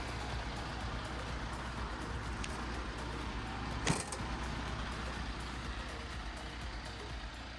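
A 2013 MAN truck with a 12.4-litre diesel idles with the hood open, giving a steady, even hum with no knocks and a single brief click midway.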